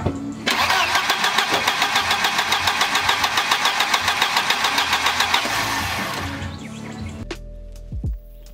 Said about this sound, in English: it's just cranking and it's trying hard but it's not doing anything